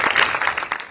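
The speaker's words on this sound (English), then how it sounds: "I think we need to give each other a round of applause." An audience at a McDonald's team meeting gives a short burst of applause, dense overlapping claps filling the room at moderate loudness.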